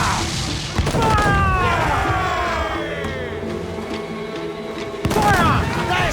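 Naval cannon fire from a pirate ship battle in a sea combat game, heavy booms and crashing blasts amid constant rumbling, with a fresh loud volley near the end and shouted voices of the crew in the mix.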